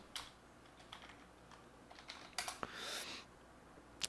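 Typing on a computer keyboard while entering a name in Cinema 4D software: scattered quiet key taps in small bursts, with a denser run of keystrokes near the end, no talking.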